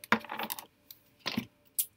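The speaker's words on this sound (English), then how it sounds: "I'm going to shuffle these all up" Tarot cards shuffled by hand in short bursts of crisp riffling and flicking, with a longer flurry at the start, a brief second burst and a quick snap near the end, close and fairly quiet with no talking.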